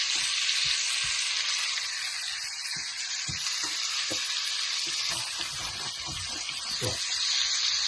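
Mutton pieces fry in a pan with a steady, bright sizzle that fills the whole stretch, alongside a few soft knocks and clatters from the pan or a spoon.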